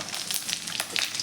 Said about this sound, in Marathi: मोहरी तडतडली की त्यामध्ये आपल्याला जिरे थोडेसे घालून घ्यायचे आहेत